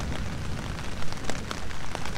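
Steady rain pouring down during a storm at an Adirondacks campsite, a dense close hiss with scattered louder drop hits on a surface, no talking.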